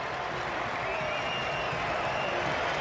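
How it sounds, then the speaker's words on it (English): A German stadium crowd roars in a steady, distant wash of cheering and applause after a goal in a Germany versus USA friendly football match. "The German faithful in the crowd erupt."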